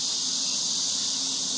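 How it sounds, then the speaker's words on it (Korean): Cicadas drone in a park in late summer, a steady, bright, continuous buzzing at moderate volume with no pauses. "매미도 울고"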